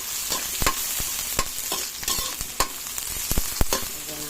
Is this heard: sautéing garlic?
yes